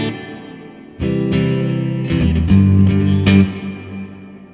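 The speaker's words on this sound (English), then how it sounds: "Okay, same place, but with hall reverb." Electric guitar through an Orange Crush CR60C combo amp with hall reverb, loud distorted chords struck one after another, each ringing into a big spacious tail that fades at the end.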